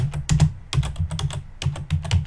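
A video title is typed quickly on a computer keyboard, rapid close clacks coming in dense bursts with short pauses between words, loud and unaccompanied by talk.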